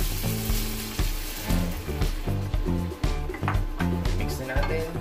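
Shrimp being added to a frying pinakbet sauté with ground meat, a continuous loud sizzle with rhythmic stirring and clanks of a utensil against the pan.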